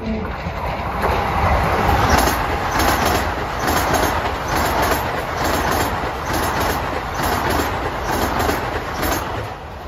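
Long Island Rail Road train passing at Elmont, a loud steady roar with rhythmic clickety-clack of wheels over rail joints and a high metallic whine, close by and continuous.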